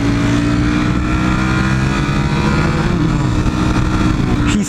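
A Ferrari California sports car accelerates hard off the line, its engine a loud, steady roar that holds strong throughout, with other traffic noise around it.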